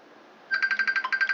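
A phone rings with an electronic ringtone in a workshop where a Honda SL125 cylinder head and valves are being serviced: a quiet half-second, then a rapid train of bright, evenly spaced beeping pulses, close and clear.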